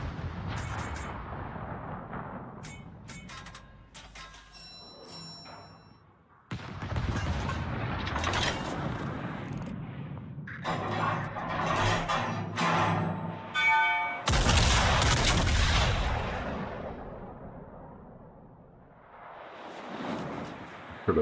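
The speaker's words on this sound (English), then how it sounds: "Heard a big old booming sound." Naval guns boom in World of Warships during a battle with the Italian battleship Andrea Doria, several heavy blasts and rumbling shell impacts rolling one after another, loud and near.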